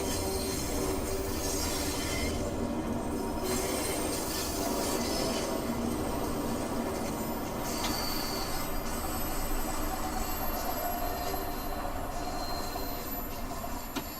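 Train braking in Train Sim World 2, heard as a steady, loud rumble of rolling rail wagons with wheel squeal running throughout.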